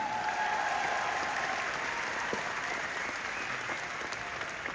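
Sustained audience applause, many hands clapping in a steady, even roar heard at a moderate distance, with no break from start to finish.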